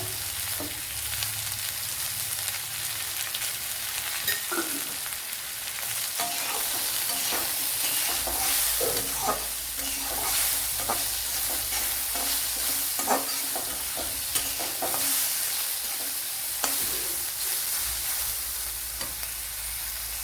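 Sliced onions frying in a pan with salt added, a steady broad sizzle running throughout, broken by repeated scraping and clinking of a spoon stirring the mixture, close and fairly loud with no talk.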